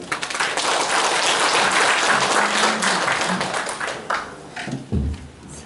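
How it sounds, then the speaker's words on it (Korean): A lecture audience at a citizens' forum in Gumi, Korea, claps steadily for about four seconds, then the applause thins into a few scattered, closer claps and taps. "수고해주신 이승기 교수님께 큰 박수를 다시 한번 부탁드리겠습니다."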